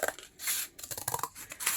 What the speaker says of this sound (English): here I'm gonna use my scissors and cut piece of the cardboard